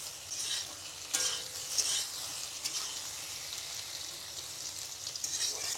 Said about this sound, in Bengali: তো এই যে টমেটো আর আলু এইগুলিকে এখন একটু কিছু সময় ধরে নাড়াচাড়া করব।